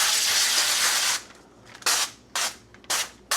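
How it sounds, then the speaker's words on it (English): Cooking spray from a can hisses out in one long burst, then three shorter sharp bursts follow, loud and close in a home kitchen with no talking. "Let's spray this"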